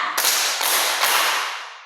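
A classroom of children playing a clapping game claps three times together, three sharp, whip-like smacks in fairly quick succession, washed in heavy room echo that trails off afterward.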